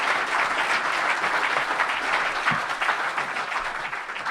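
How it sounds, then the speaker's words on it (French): An audience at a live political programme presentation in Brest applauds a guest: sustained, dense clapping from a large crowd, steady and fairly close throughout, with no speech over it. "Je vous demande de l'applaudir bien fort"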